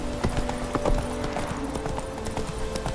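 Horse hooves clip-clopping at a steady gallop in The Witcher 3, a rapid rhythmic patter under game ambience with a tonal hum in the background.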